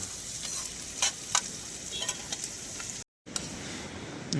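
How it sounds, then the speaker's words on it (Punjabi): Tadka of spices sizzling in a pan while being stirred, a steady close frying hiss broken by a few sharp scraping strokes and one brief silent gap, with no talk. "ਤੜਕਾ ਲੱਗ ਰਿਹਾ ਹੈ"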